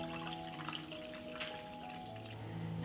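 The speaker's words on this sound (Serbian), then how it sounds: "Sipam vodu u šerpu do visine poklopca." Water pours steadily into a cooking pot lined with a cloth and packed with glass jars for pasteurizing, a continuous close splashing rush with a faint electrical hum beneath and no speech.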